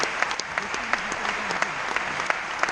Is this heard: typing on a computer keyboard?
no